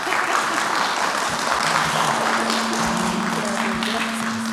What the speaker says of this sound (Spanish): por favor, un aplauso para la doctora Monique